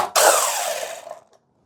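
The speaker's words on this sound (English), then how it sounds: "Remove our screw from the jam clamp" A square-bit driver removes a screw from the jam clamp of a BAL Exact Slide cable mechanism in one short, close whir lasting about a second, with no voices.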